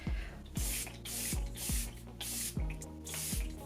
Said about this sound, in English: I'm just about to spray it on my face.